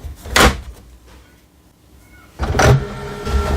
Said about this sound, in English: you may push back the cartridge tray and close the access door